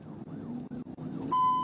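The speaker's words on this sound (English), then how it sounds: "the officer caught up and turned on lights and siren" A wailing police siren sweeps up and down, close and loud, during a high-speed chase, then switches to a steady high electronic tone at the end.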